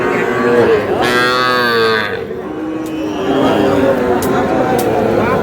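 A bull calf's drawn-out moo rises and falls once, fairly close, amid the chatter and noise of a busy cattle market crowd in Noakhali.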